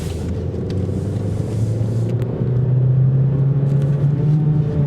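A 2012 Chevy Cruze Turbo with a questionable transmission driving and shifting gears, a steady low engine drone that drops and then rises in pitch as the gear changes, heard from inside the car without talk.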